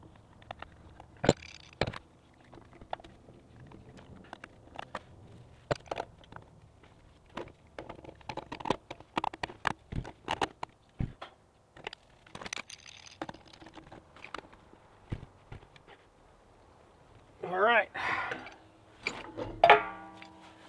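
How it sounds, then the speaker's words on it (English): Metal clicks and clanks as a double pipe wrench tightens threaded fittings on a well water pressure tank, scattered irregular taps over about twenty seconds, close and fairly quiet, with a scraping burst near the end. "Double pipe wrench did just fine there."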